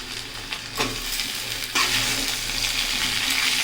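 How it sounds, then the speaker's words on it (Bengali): Vegetable stems and potatoes, already browned with salt and turmeric, sizzle in a frying pan. Stirring adds a couple of louder bursts of crackle over the steady hiss. "আলুগুলোর সাথে ডাঁটাগুলো 2-1 মিনিট ভেজে নেব।"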